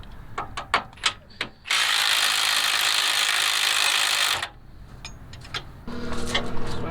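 Ratcheting of a 19 mm box wrench on a suspension bolt during an H3 suspension swap: quick clicks, then a loud sustained burst of rapid ratcheting lasting a few seconds, followed by quieter mechanical rattling.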